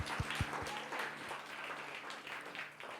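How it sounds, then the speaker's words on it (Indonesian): Audience applause at a church worship service, a moderate spread of clapping from a crowd with a few sharp claps standing out near the start, sustained throughout. "kasih tepuk tangan yang terbaik."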